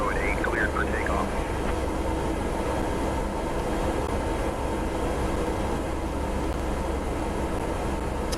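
A Cessna C208 in the video game MSFS 2024 taking off from runway 10 at St. Bart's, its turboprop engine holding a steady, loud, even roar the whole time, with a voice speaking briefly near the start.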